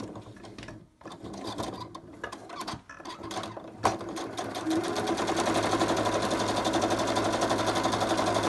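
Sewing machine stitching a zip onto a fabric fidget mat, running in short bursts with pauses at first, then settling into a steady, continuous mechanical whir with fast repetitive needle clatter, close and fairly loud.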